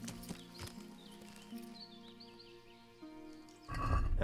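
Horse hooves clip-clop in the medieval video game Kingdom Come: Deliverance, a few soft hoof knocks under sustained tonal game music, ending in a louder rumble.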